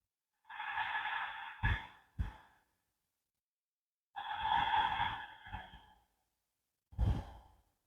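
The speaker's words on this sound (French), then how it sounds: "Respiration légèrement bruyante," Slow, audible ujjayi yoga breaths drawn through a constricted throat, two long airy exhalations, each followed by short sharp intakes, with silence between.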